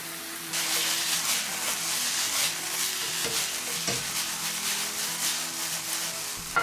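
Lean stewing beef fries in olive oil with a loud, hissing sizzle that kicks in after a brief quiet moment, punctuated by occasional stirring knocks, near the microphone and without talk.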